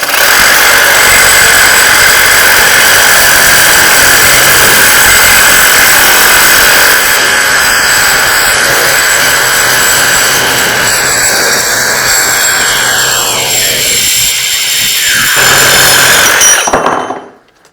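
A Milwaukee Sawzall with a carbide blade cuts through a toughened steel spanner, a loud, harsh, continuous grinding rasp with motor roar that runs for most of the clip before the blade slows and stops near the end.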